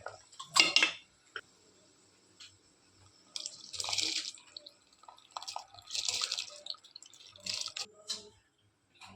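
Rice goes into a pot of boiling water, followed by soft metallic clinks of a lid and utensils with faint bubbling and splashing between the sharper knocks.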